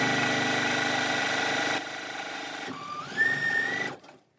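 A sewing machine stitches a quilt with a loud, steady mechanical whir. The sound eases, then rises into a higher whine before cutting off abruptly.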